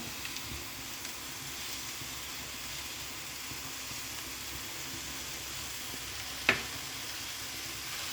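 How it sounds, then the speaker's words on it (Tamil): Samosa filling cooking in a pan on a slow flame, a low, even sizzle and hiss that runs on steadily, with one brief clink partway through. "ஸ்லோ ஃப்ளேம்லேயே வச்சு இப்போ இதை நல்லா மிக்ஸ் பண்ணி வேக வச்சுக்கலாம்."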